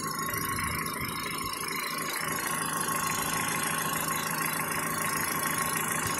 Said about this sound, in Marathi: बघा इंजिनचा आवाज बघा तुम्ही, एकदम जबरदस्त